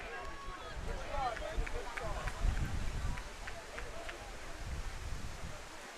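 Strong wind buffets the microphone at an outdoor high school baseball field, a low, continuous rumbling roar throughout with a voice talking over it.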